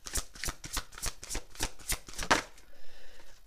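Tarot cards shuffled in quick riffling bursts, a rapid run of crisp papery flutters for about two and a half seconds before trailing off into a quieter rustle.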